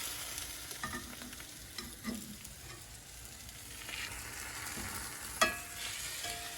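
Slices of French toast fry in a pan, a soft, steady sizzle running throughout with scattered light scrapes and one sharper clack near the end, no voices.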